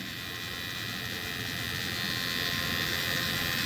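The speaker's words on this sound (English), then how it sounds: "you can see the motor's trying to go in reverse" A Nissan Maxima fourth-generation HVAC actuator motor runs in reverse with a steady, continuous electric whirring buzz, close and unbroken throughout.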